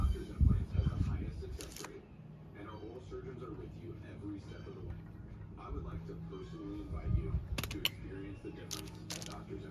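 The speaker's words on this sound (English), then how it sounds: "Get a screwdriver to get this lock washer." A screwdriver pries a lock washer off an 80 Series Land Cruiser wheel hub, making small metallic clicks and scrapes under a voice.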